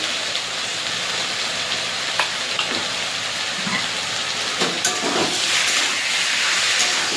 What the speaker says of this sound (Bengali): ভালো করে কষিয়ে নেবো লঙ্কা বাটা দিয়ে।